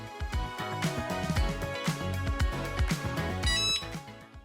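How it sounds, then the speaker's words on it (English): A Cricut mug press gives a short, high electronic beep near the end, partly masked by loud, continuous background music. "Once the mug is ready, it'll beep."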